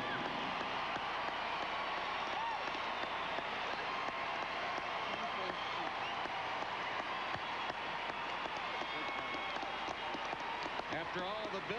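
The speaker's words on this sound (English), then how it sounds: "Her brother and sister applaud." Arena crowd at the 2002 Olympic figure skating short program keeps up a continuous roar of applause and cheering, broad and distant-sounding, with a commentator talking over it.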